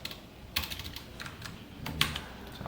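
Computer keyboard typing during a Python coding lesson, a few sparse, fairly quiet keystrokes at close range, with clearer clicks around the middle and near the end, no talking.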